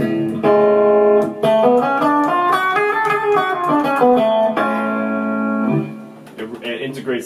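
Electric guitar through an effects unit, a sustained chord ringing first and then an Ionian sharp 5 scale played note by note, loud and close with a slightly distorted tone, no talking.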